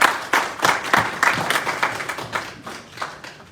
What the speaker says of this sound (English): big round of applause for all those youngsters who are here.